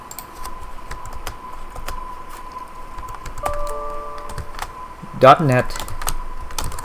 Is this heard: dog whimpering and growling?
no